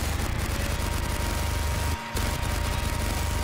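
Rapid sustained turret gunfire in the video game Modern Warfare 2, a loud dense stream of shots broken by one brief gap before resuming.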